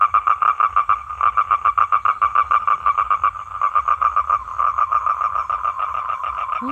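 A toad calling for a mate, a loud, close rapid trill of pulsed croaks repeated in long runs with barely a pause.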